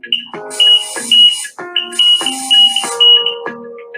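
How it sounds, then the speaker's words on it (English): An electronic leak detection instrument sounds its fault alarm: a loud electronic beeping pattern of repeated tonal bursts with a shrill high edge, pulsing in an irregular rhythm over four seconds with no talk. "When a fault is detected, the instrument will sound an alarm and the screen will glow red."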